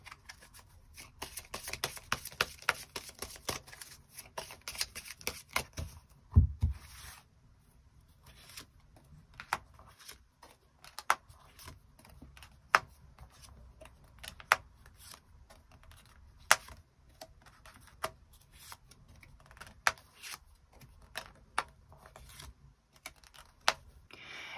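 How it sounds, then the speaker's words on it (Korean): Tarot cards being shuffled and handled in a quiet room during a reading: a busy run of crisp rustling and flicking for the first several seconds, then scattered sharp taps and card snaps spread out over the rest. "추가 카드 뽑아보도록 하겠습니다"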